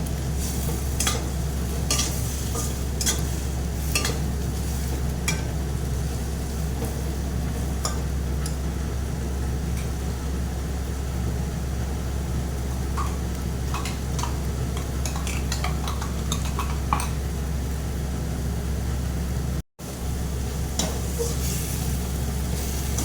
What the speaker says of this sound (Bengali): মশলাটা একদম ভালো করে কষিয়ে নিয়েছি